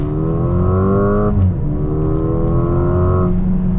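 A 2021 Mercedes-AMG GLA 35 4Matic engine in Sport Plus mode revs up loudly and close, its pitch climbing through a gear, dipping briefly, then rising again.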